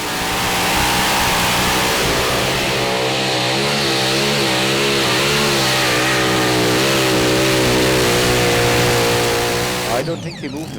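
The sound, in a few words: pulling tractor Let's Try from Holland revving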